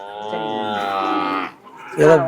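Native cattle at a cattle market, with a loud, close, drawn-out moo lasting over a second followed by a shorter second call.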